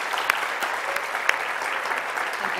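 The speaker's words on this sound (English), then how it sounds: "let's give her one more round of applause for joining us" An audience claps steadily at a conference keynote, with a dense, sustained round of applause from a large crowd, heard alone and at even loudness.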